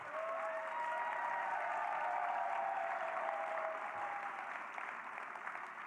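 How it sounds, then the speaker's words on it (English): Audience at a youth charity gala claps for a longtime advocate, a steady wash of applause heard from a distance and fairly faint, sustained evenly for several seconds. "We could clap that up."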